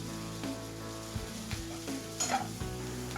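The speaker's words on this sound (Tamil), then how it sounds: "வெங்காயம், தக்காளி போட்டு நல்லா வதக்கணும்." Chopped onion and tomato sautéed in a pan over a tempering of cumin, fennel, cinnamon and pepper for a mushroom capsicum gravy: a steady close sizzle broken by repeated spatula scrapes and stirs, with no talking.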